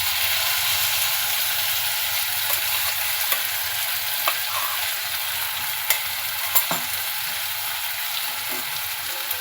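Okra curry with tomato paste sizzles in a frying pan, giving a steady bright hiss with occasional soft scrapes from stirring.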